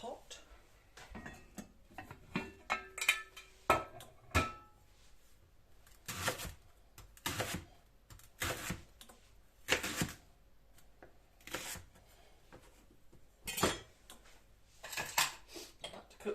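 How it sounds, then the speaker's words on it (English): A cooking pot is pulled out and handled in a home kitchen, giving a run of irregular metallic clanks, knocks and rattles, some sharp and close, scattered across the stretch with quiet gaps between them. "Let's get my pot."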